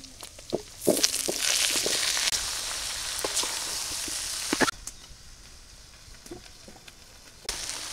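Chopped vegetables tipped into a pan of fried onion and garlic, with a loud burst of hissing sizzle as they land, settling to a softer steady frying with occasional clinks, no voices.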